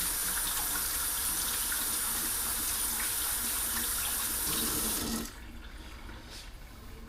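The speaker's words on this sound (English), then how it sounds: "Wash my hands." Tap water runs steadily into a kitchen sink during hand washing, a close, continuous hiss that drops abruptly to a softer trickle near the end.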